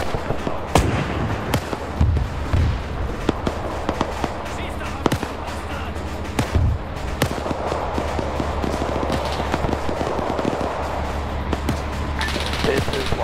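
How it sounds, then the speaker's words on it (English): Dense gunfire and explosions from a WW2 battle in the video game Arma 3, with rapid bursts and scattered sharp shots crackling continuously over a low rumble, while voices talk underneath. "Now the steward's firing at him."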